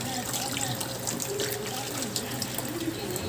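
Water running steadily, poured for bathing a hedgehog, like a stream flowing from a tap, with a voice faintly audible in the background.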